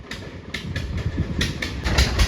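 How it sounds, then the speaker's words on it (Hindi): An overloaded tractor hauling maize in Araria labours uphill, its engine giving a heavy, steady rumble with rhythmic knocking pulses, loud and continuous with no talk. "देखियो ट्रैक्टर कुथा रहल छै एकदम"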